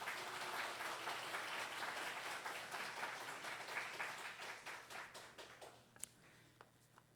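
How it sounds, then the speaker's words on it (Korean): A church congregation applauds its teachers at a Sunday morning service, a faint, distant burst of clapping that thins into scattered claps as it fades out. "여러분이 우리 교사 선생님들이 인사할 때 뜨겁게 우리 박수로 크게 격려해 주시기 바랍니다"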